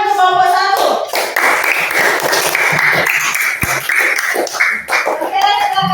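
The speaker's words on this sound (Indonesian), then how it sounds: "Tepuk tangan untuk kelompok" Schoolchildren in a classroom clapping for a group of classmates: brisk, steady hand clapping that lasts for several seconds, with children's voices and a teacher's voice talking over it.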